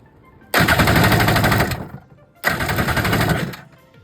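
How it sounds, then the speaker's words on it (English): Power drill boring holes to mount a custom nose brace on an 86 550 with a 650 swap, two loud close bursts of rapid rattling drilling, each lasting about a second and a half, separated by a short pause. "We just clamped it on, lined it up as best we could, and now we're just gonna continue drilling."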